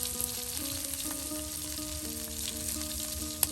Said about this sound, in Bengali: একদিকে শুটকি বেজে নেওয়া হচ্ছে